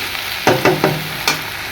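Khichuri with mashkalai dal, masoor dal and polao rice being set to cook in a pot, a steady close sizzle with four sharp clattering stirs or scrapes at uneven intervals, no talking.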